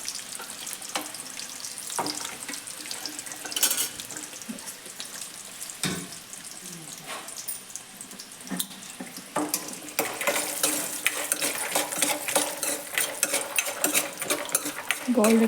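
Cashews fry in ghee for biryani, giving a steady sizzle broken by scraping stirs and clinks of a utensil that grow busier toward the end.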